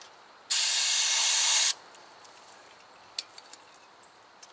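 Close burst of aerosol spray cleaner rinsing rear brake parts on a 2017 Subaru WRX, one loud hiss lasting about a second, followed by quiet small clicks and taps.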